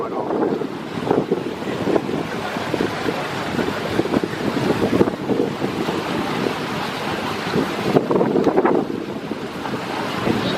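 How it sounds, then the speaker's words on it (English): Water sloshes and laps against a boat hull at Canobie Lake Park in continuous surging washes, with wind noise buffeting the microphone throughout. "hearing the water slosh against the boat"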